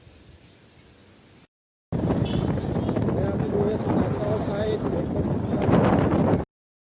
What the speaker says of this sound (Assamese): আৰু বতৰ চাওক, পূৰা ধুনীয়াকৈ বতাহ দি আছে